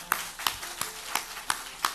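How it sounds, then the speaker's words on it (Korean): A church congregation claps in praise during a Korean worship service, six evenly spaced claps, fairly faint and roomy, with no talking over them. "하나님께 영광의 박수 한번 합시다."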